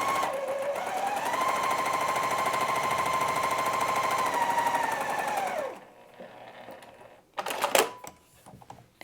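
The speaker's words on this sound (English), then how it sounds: "I'm gonna sew a 1/4 inch down that side." A sewing machine stitches a quarter-inch seam through quilt fabric in a steady, fast mechanical whir that runs for several seconds before stopping, followed by quieter handling sounds and a short sharp clatter near the end.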